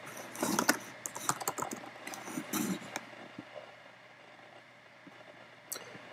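Typing on a Mac computer keyboard, close and fairly quiet, with short bursts of key clicks in the first three seconds, then near silence with one last tap.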